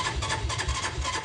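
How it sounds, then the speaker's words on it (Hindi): A motorbike engine idles and warms up on a cold winter morning, a steady close low rumble with a rhythmic pulsing throb and no talk over it. "तो बाइक को करते हैं गरम, और हम तो बाइक पे ही जाएंगे"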